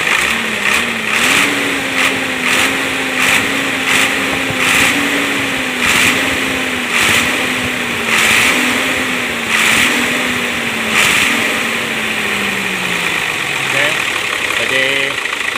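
A Hino Lohan 260 truck engine that loses power and sputters at high RPM runs loud and close, its steady idle drone rising and falling slightly as it is revved, with sharp periodic clicks over the running engine.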